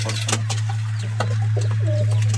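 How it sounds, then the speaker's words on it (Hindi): Pigeons kept in a collection coo softly in short rolling calls over a steady low electrical hum, close by with no talk. "1 साल में पुराना हो जाएगा कबूतर"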